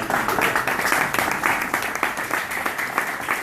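Audience at a brewery talk on a Two Roads beer applauding in close, distinct, rhythmic clapping that carries on loudly and evenly, with a faint voice beneath it.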